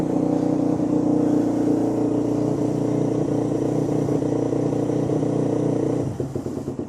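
A kick-started motorcycle engine runs loud and close with a steady chugging idle, then its sound shifts and drops off near the end.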